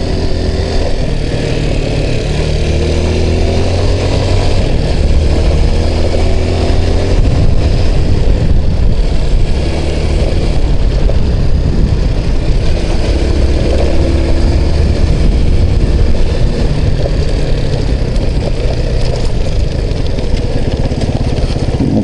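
Honda 200 driven along a mowed field, its engine a loud, steady drone with constant rumble and rattling vibration, unbroken for the whole stretch with no voices.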